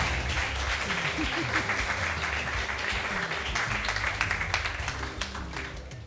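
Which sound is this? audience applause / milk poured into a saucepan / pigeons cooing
audience applause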